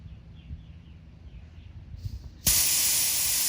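Air bursts from a brass 4x4 tire deflator on a tire, starting abruptly after quiet background and continuing as a loud, steady close hiss to the end.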